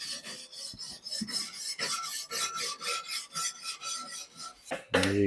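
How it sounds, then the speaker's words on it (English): Ceramic heat deflectors from a kamado grill are scrubbed clean with repeated rasping rubs in a steady back-and-forth rhythm, close and crisp, ending in a brief clunk. "Let's take the deflectors out. Give it a little rub down."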